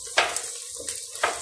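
Short bursts of sizzling hiss, three quick crackling flares spaced apart, close and moderately loud, as cumin seeds are tempered in hot oil.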